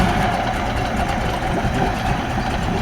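A 2004 Mercury 60 hp outboard engine idles right after the ignition is switched back on, a close, loud, steady low rumbling chug with no talk.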